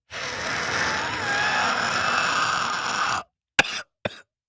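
A long, harsh rasping cough runs for about three seconds, then two short, sharp coughs follow after brief silences.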